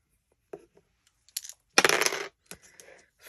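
Dice rolled during a money-saving game: several short clattering rattles land on a hard surface, with one longer tumbling burst in the middle, close and crisp against silence.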